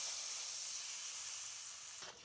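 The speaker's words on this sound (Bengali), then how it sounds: "এবার আমি জল দিয়ে দিচ্ছি পরিমাণ মতো" Water is poured into a tamarind and spice mixture frying in oil for a sour boal fish curry, producing a steady, close hiss and sizzle that fades slightly toward the end.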